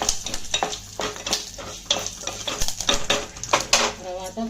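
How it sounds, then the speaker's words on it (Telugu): Dried red chillies and curry leaves frying in oil in a pan for coconut chutney tempering, a close sizzle broken by repeated scraping and clinking of a utensil stirring against the pan. "ఎండుమిర్చిని కరివేపాకు ఇలా బాగా వేగుకోవాలి."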